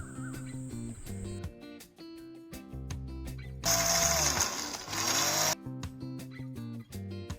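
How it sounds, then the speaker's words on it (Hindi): Electric blender grinding dry fruits and cardamom seeds into powder, starting with choppy bursts, then a loud sustained whirring run before stopping into short pulses. "ड्राई फ्रूट्स और इलायची के बीज भी इसके अंदर ऐड करके इनको जल्दी से ब्लेंड कर लूँगी।"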